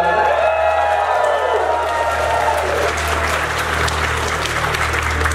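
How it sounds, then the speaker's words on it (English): A convention crowd at ScotiaCon robot combat event applauds and cheers for the contestants, a loud dense burst of clapping and whoops sustained throughout, with an announcer's voice mixed underneath. "Give a cheer for all the contestants."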